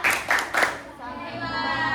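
A group of schoolchildren in a classroom perform a rhythmic clapping cheer: three sharp bursts of clapping, then the children's voices chant together in a sustained, sing-song call.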